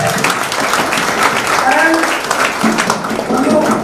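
At a school reunion get-together, a crowd claps together in a steady wash of applause, with a voice speaking over it throughout.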